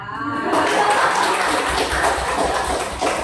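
A classroom full of students claps together after a short rhyme recited in a lesson, a dense, steady burst of applause that fills the room for a few seconds, with some voices mixed in.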